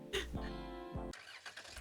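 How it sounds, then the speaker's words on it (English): Van engine cranking and catching in two quick starter-like bursts, then a short rev with a rough, close mechanical drone, all within under two seconds. "The van revs to life."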